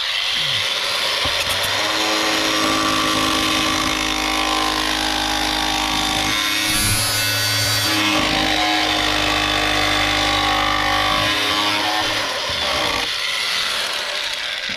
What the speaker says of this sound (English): just going to try and cut some of this rust out